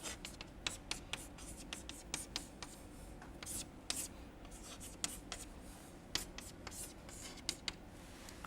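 Quiet scratching of chalk or pen on a board as an equation is written by hand during a lecture, with irregular taps and strokes continuing steadily throughout.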